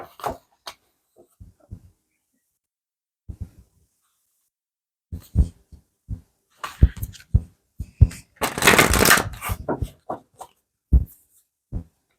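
Oracle cards being shuffled by hand, with scattered soft taps and clicks followed by a brief riffling burst near the end, close and quiet against silence.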